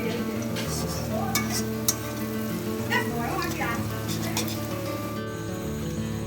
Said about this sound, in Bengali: তেল দিয়েছি, তারপরে দিয়েছি 1 চামচ ঘি, দিয়ে পেঁয়াজটা ভাজছি।